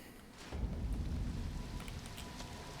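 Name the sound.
rain and thunder in Elden Ring video game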